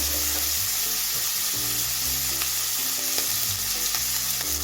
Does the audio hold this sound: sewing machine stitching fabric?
no